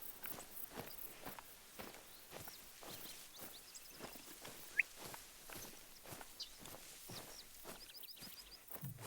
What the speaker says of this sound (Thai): ได้ยินเสียงเท้าไหมครับ